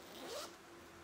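A zipper pull on a craft bag is drawn along once in a quick, close rasping zip lasting under a second, with no voices.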